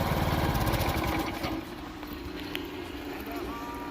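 A small gas engine string trimmer drops from a steady buzzing run to a lower, quieter idle partway through, droning continuously and close by.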